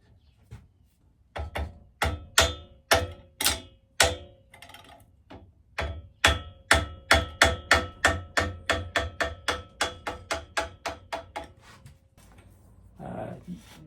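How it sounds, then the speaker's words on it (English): Metallic mallet blows on a wrench to loosen a square taper bicycle bottom bracket, a long run of sharp, evenly paced strikes that speed up, close and loud, with a short rustle at the end. "I like to use a mallet or something, you know, sometimes to help to just wrench out a little bit"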